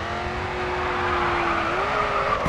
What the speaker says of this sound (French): Continue de braquer pour faire chasser l'arrière de ta voiture.